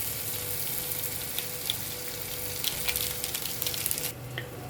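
Maggi noodle preparation being stirred in a hot pan after salt and pepper go in, making a steady, close sizzle with scattered sharp clicks and scrapes of the spatula, and no voices.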